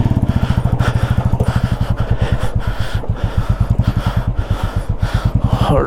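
A Royal Enfield Classic 350 motorcycle thumps steadily while riding near Manali on a freshly tightened clutch, its single-cylinder beat a fast, even pulse, close and loud with no talk over it.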